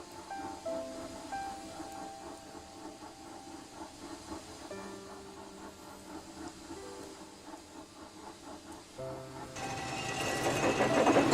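A cartoon steam engine puffs in over a light musical score, a soft rhythmic chuffing under tonal music that swells into a louder hissing rush of steam at the end, with no voices.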